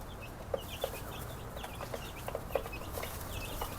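Soft, high chirps and peeps from young chicks in a brooder box scattered over a low rumbling background, with a few faint clucks mixed in.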